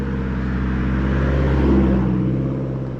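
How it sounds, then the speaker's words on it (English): A four-cylinder car with a loud, leaky exhaust drives past a roadside, a steady droning rumble that swells slightly as it passes close by and then eases off. "I hear a vehicle that's diesel. Or just a car with a loud exhaust."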